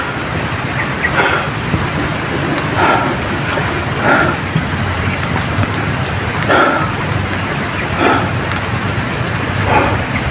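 Heavy rain pours steadily and loudly outdoors among grass, a dense unbroken wash of noise with faint recurring bursts rising through it.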